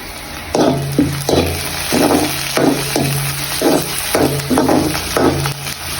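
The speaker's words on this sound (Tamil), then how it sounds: "இந்த நேரத்தில் ரம்பையும் போட்டு கருவேப்பிள்ளையும் போட்டு வதக்குவோம்" Onions sautéing with rampe and curry leaves in a pan for a Jaffna-style chicken curry: a steady sizzle under repeated scraping stir strokes, close and moderately loud, with no talking.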